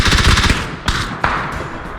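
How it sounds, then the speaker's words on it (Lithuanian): A short, loud burst of rapid automatic gunfire in an online shooter video game, followed by two sharp, separate shots that fade quickly. "Kažkas į mane šaudo, bet nematau iš"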